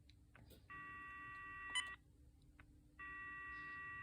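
A Uniden EXS2010 cordless phone, a long-range high-end handset, gives steady electronic tones, a sustained beep of over a second, a pause, then another held tone, faint over quiet room hiss.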